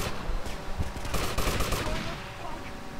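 Rapid automatic gunfire from GTA Vice City rattles in dense, overlapping bursts for about two seconds before thinning out, loud and close amid game background noise.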